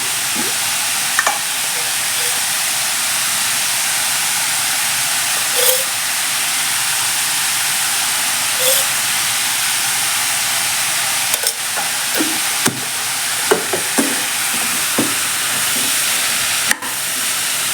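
Bitter gourd sautés in oil in a pan, giving a steady, even sizzle with occasional light clicks from stirring.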